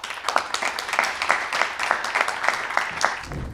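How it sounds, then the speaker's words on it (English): A small live audience at a startup pitch feedback event gives a round of applause to welcome a founder, with many hands clapping in a steady patter at moderate loudness, no voices on top. "Founder number 2 with a round of applause."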